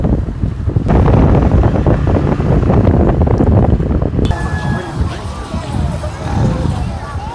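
Wind buffets the microphone outdoors in Tobor, Pangasinan, a loud low rumble that swells after the first second and runs steadily on, with people talking under it.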